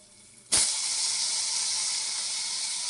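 Tomato drops into hot oil tempered with neem leaves, dried red chillies and asafoetida for cumin-pepper sambar, setting off a sudden loud, close sizzle that holds as a steady hiss.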